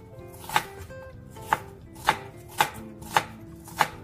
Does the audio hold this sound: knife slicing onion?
yes